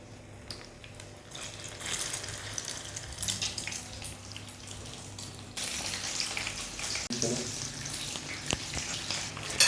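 Egg-coated chicken sandwiches fry in a pan of hot oil with a steady, moderate sizzling hiss that grows slightly fuller partway through, with a few faint clinks from the pan.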